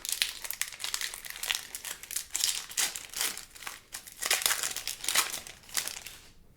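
A Magic: The Gathering Modern Horizons booster pack's foil wrapper is torn open and handled up close, giving a steady run of sharp crinkling and crackling bursts without speech.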